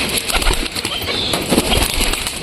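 Pigeons released from a loft burst into flight with rapid, papery wing flaps over a noisy, close background, soft coos mixed in.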